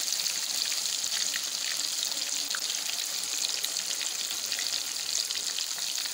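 Crispy fish fries in hot oil, giving a steady, dense sizzle and crackle that stays loud and even throughout, with no voices.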